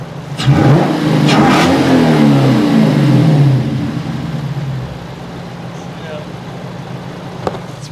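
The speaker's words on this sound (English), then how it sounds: "Give it some revs." A Lexus IS-F engine revs hard, rising and falling in pitch for a few seconds, then drops back to a lower rumble.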